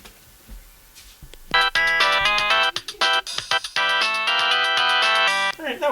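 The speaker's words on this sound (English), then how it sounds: "Can you go get your blue phone and make it sound like it's ringing?" A phone ringtone plays a bright, repeating electronic melody, starting after a quiet moment and continuing loudly, with faint voices briefly near the start.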